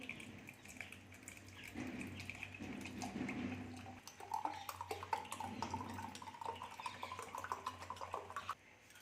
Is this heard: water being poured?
yes